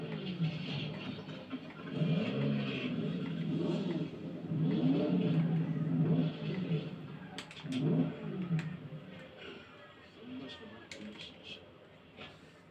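A car engine in the video game Saints Row 2 revs and surges steadily for several seconds, with people talking over it.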